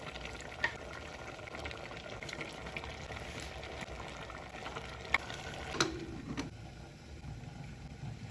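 Potatoes going into a pan of Assamese-style mutton curry: a steady, close sizzle and bubbling of frying throughout, with a few faint clinks of utensils.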